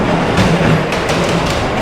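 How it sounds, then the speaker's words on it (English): Ghost Train ride cars at Blackpool Pleasure Beach roll along their track with a loud, continuous rumble and faint rhythmic clatter, close by and without pause. "It's a good Ghost Train, this."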